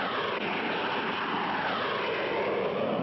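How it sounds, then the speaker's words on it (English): A black jet plane in a cartoon roars steadily as it dives low at people, a loud continuous engine rush filling the clip with no voices. "the black jet suddenly dove at them"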